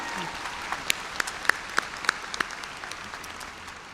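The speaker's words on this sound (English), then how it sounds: "Now, yeah, that's a good place to applaud." A commencement arena audience breaks into applause, a broad, steady wash of clapping with a few sharp individual claps standing out near the front.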